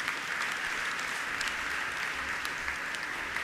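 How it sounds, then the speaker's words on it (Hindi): Soft, distant applause from a seated gathering at a Jain monk's question-and-answer discourse, a continuous patter of many hands heard at low level throughout. "महिला वर्ग से तालियों की आवाज कम आ रही है"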